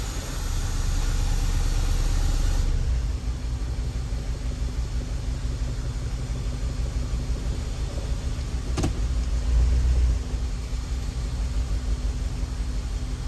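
A Honda Element with a cylinder-one misfire runs rough in drive, giving a steady, close engine rumble and idle drone with a brief louder surge near the end.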